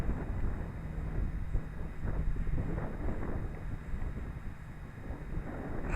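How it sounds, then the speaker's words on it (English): Strong, gusty wind at a park in Midtown Anchorage, Alaska, during a drone flight, a constant low rumbling buffet that swells and eases without pause. "That wind is just terrible."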